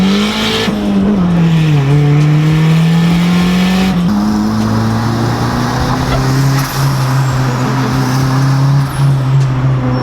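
A loud boosted Honda EG Civic engine roars and climbs in pitch as it accelerates on a dyno, dipping briefly at a gear change before pulling hard again, with no voices.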